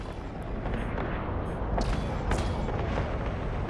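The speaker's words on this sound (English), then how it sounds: "All the guns on the destroyer are on the top and the sides of the ship if you guys are trying to figure out where it's actually coming from" A destroyer's guns firing in the space game Eve Online, heard as repeated muffled booms and thuds over a steady low rumble, fairly distant and not very loud.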